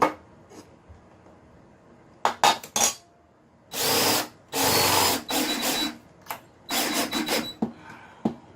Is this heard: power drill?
yes